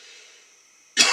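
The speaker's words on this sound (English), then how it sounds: "and hence I'm coughing" A single sharp cough bursts out at the very end after near-silence, close and fairly loud, from a man outdoors on a wild camping trip.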